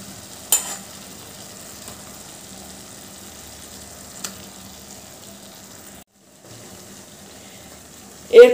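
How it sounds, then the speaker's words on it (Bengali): Fried eggs going into a pan of sizzling spice masala: a low, steady sizzle with a couple of sharp clinks and a brief pause, ending in a louder clatter close by. "এবার আমি ভেজে রাখা ডিমগুলো দিয়ে দিচ্ছি।"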